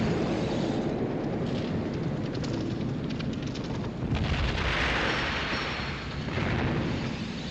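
Naval shell striking the forward turret of the cruiser Exeter in a River Plate sea battle: a loud continuous roar of explosion and gunfire, with crackling bursts and rumbling swells throughout, no voices.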